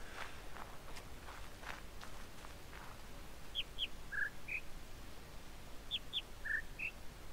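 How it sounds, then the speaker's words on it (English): Faint, high bird chirps in the video game The Witness come in two short clusters over a steady background hiss, quiet and distant. "I can hear the birds singing."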